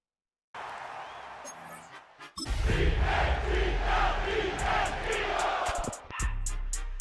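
Stadium crowd roars in an EA Sports football video game, a broad steady cheer that swells in after a quiet start and holds loud throughout, with brief sharp bursts near the end.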